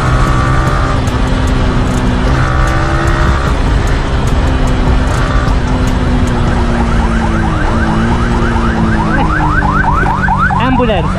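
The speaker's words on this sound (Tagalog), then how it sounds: "Ambulance." A loud ambulance siren wails close by over motorcycle engine noise in traffic, switching to a rapid yelping warble toward the end.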